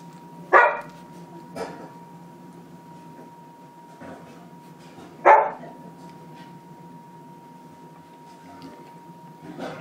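Labrador Retriever puppies, 21 days old, give a few scattered high yips and small squeaks while playing, separated by quiet gaps over a faint steady hum. A soft voice is heard briefly.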